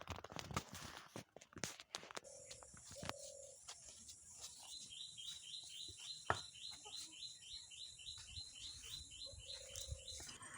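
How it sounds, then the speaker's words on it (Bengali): Morning birdsong from trees outside a home courtyard, with repeated bright chirps and a rhythmic trilling call over a quiet background, joined by a few soft thumps and rustles nearby. "সকালে কত সুন্দর গাছে গাছে পাখি ডাকছে,"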